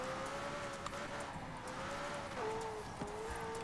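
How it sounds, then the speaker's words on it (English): Car engine in Forza Horizon 4, a steady droning engine note that dips as the gears shift down, with a couple of faint clicks, continuous and moderately loud with no voices. "Getting used to those downshifts"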